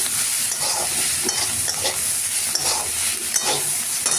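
Semolina upma tempering frying in a pan while being stirred: steady broadband sizzle with repeated scraping stir strokes, close and continuous, no talk.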